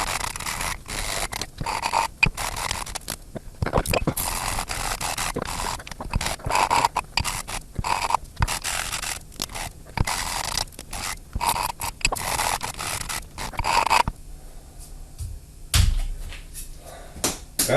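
Hand-filing or scraping a burr off a rough metal workpiece, heard as steady rhythmic rasping strokes close by that go on for most of the span, then give way to quieter, sparser scrapes.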